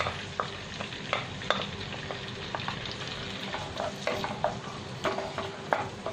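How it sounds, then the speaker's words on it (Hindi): Finely chopped onions frying in a pan while being stirred, for paneer butter masala: a steady close sizzle with frequent sharp clicks and scrapes of the spoon throughout, no voices. "अब हम इसे कुक करेंगे जब तक प्याज जो है वो ब्राउन हो जाए तब तक।"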